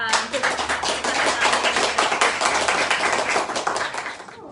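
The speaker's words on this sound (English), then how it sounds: "So let's have another round of applause." Audience applause at a lecture event on Hindu nationalism and democracy in India, a dense, loud wash of many hands clapping that fills the whole stretch before tapering off at the end.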